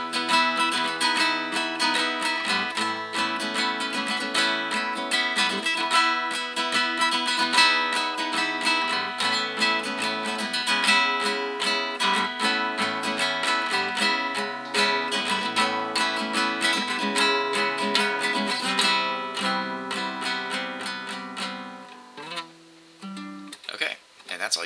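Acoustic guitar plays the last-chorus riff of a song, steady strummed chords with melodic picking running loud and continuous, then thinning and breaking into a few scattered strums near the end.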